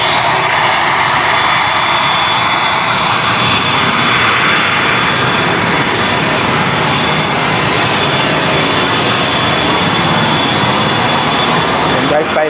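A steady, loud airplane engine roar fills the whole stretch at Busuanga airport in Coron, holding at a constant level from start to finish with no break.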